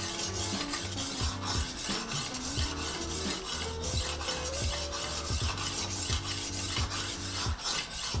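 Dull kitchen knife being sharpened at a steep angle with a rolling knife sharpener, a continuous loud grinding rasp with repeated rhythmic scraping strokes, close up and without speech.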